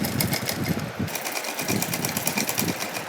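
An electric sewing machine runs steadily, stitching a folded seam on a small doll outfit for a Radha Krishna idol, its motor whirring with a fast rhythmic needle chatter throughout, close and fairly loud.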